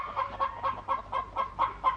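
Cartoon chickens cluck in a steady, bouncing rhythm of about nine short calls, loud and close, with no voices over them.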